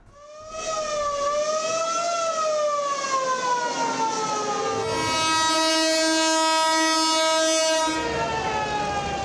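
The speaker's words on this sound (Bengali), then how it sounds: "যাত্রীদের ঠাসা বগি আর ডেক ভর্তি মানুষ নিয়ে বাড়ির পানে ছুটছে ট্রেন ও লঞ্চ।" A crowded passenger train heads home for Eid in Bangladesh, its horn blaring in one long, loud, continuous blast whose pitch bends and shifts for about nine seconds, with no voices.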